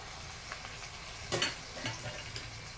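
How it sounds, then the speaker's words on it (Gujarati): A spoon scrapes and stirs through a bread pakoda spice filling with garam masala, coriander and lemon juice in a pan, a few soft clinks and scuffs against a faint sizzle, quiet and close. "આ બધું સરસ મિક્સ કરી લેવાનું"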